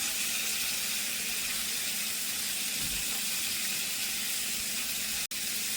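Partly frozen green beans hit a hot pan for a stir-fry and set off a steady, even sizzling hiss. The sound holds unbroken for several seconds with no talking.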